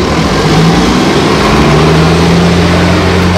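A 1976 Oldsmobile Cutlass Supreme with a 350 engine and a blower on the back, its engine roaring loud and close in a steady continuous drone with a deep low rumble and no pauses.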